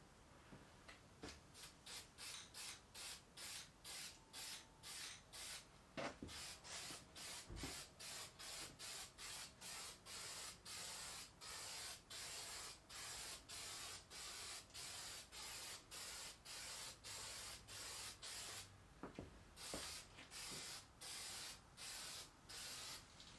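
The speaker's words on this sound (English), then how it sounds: "I'm just going to spray another layer on" Rapid, regular bursts of nozzle spray hiss close up as a finish coat is sprayed onto an 8-string guitar body, pulsing back and forth steadily with only tiny gaps, a couple of faint knocks in between.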